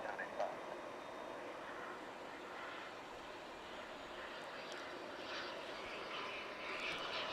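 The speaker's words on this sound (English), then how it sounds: "This one is taking off." An airliner taking off at DFW International Airport gives a steady, distant engine roar that holds at an even level throughout, with faint broadband rumble beneath.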